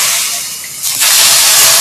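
Water splashed into a hot pan of millet upma mixture, bursting into a loud, close sizzling hiss that swells suddenly and holds steady, with no talk.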